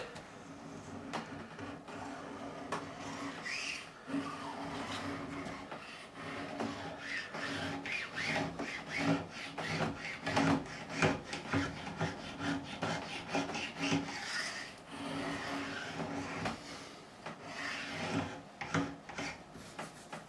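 Hand sanding along a super-glued seam, a steady back-and-forth rasping scrape that keeps going with uneven strokes, close and fairly soft, with no talking.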